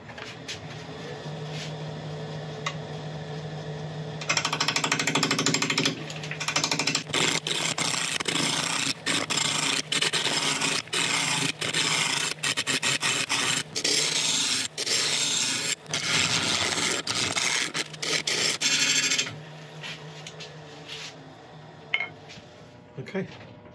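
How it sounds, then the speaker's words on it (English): A greenheart mallet blank turning on a wood lathe at about 750 RPM while a half inch bowl gouge cuts its edges, giving a loud, continuous rough scraping with rhythmic catches, starting after a quieter motor hum and ending back at the hum. "Starting off with a half inch bowl gouge, it's just sharpened up. We're just going to slowly work away at these edges until we can get it round."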